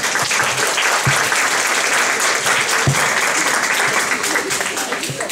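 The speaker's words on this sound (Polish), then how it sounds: "proszę o brawa dla artystów" An audience at an art exhibition opening gives sustained, dense applause for the performing musicians, loud and steady for the whole stretch with no pauses.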